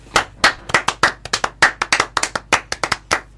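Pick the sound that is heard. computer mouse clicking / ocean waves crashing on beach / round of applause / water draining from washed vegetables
round of applause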